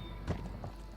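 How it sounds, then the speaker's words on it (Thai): A few soft, muffled footsteps in the Call of Duty Warzone video game, two or three dull thuds close by over a low game background hum. "นี่เสียงเท้า"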